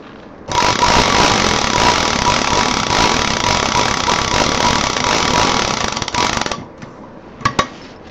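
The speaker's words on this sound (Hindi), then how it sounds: "देखिए यहाँ पर मैंने इसको डबल मशीन चला के सिल दिया है" Sewing machine stitching a zip onto a handbag: steady, loud mechanical whirring with a fast rattling needle rhythm, running continuously for about six seconds, then stopping, followed by a couple of brief clicks.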